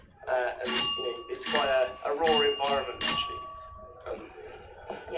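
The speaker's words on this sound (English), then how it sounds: "Sorry about that noise. That's the doorbell." An electronic doorbell chimes in a home in several bright, ringing bursts over the first three seconds, loud and close, while someone talks over it.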